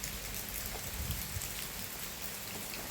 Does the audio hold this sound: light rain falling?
yes